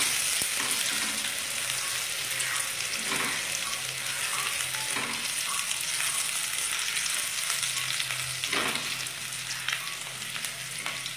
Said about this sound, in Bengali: বেশি লাল করে কিন্তু আমি ভাজব না।